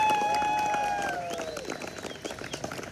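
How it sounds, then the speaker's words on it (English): Outdoor concert crowd applauding a band on a hill, a whistle-like tone at first, then the clapping thins into scattered claps. "You all give these fine ladies and gentlemen one more round of applause"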